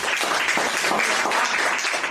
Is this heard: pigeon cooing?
no